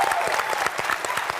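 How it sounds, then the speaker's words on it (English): A brief burst of dense, steady applause from a crowd, with no voices over it. "So one more round of applause for them"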